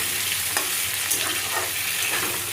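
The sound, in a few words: potatoes frying in a pan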